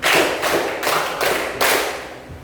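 A seventh-grade class at a Christian junior high school claps together in a counted rhythm: several loud group claps in quick, evenly spaced bursts, with no talking over them.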